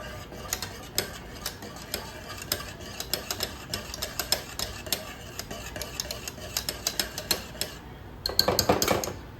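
A whisk beats gram flour batter for Sindhi kadhi in a bowl, fast rhythmic clicking strokes close up, ending with a brief louder scrape.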